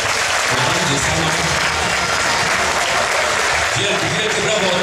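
Crowd applause at a speedway race meeting between Poznań and Ostrovia, loud sustained clapping from a stadium audience with a voice talking over it.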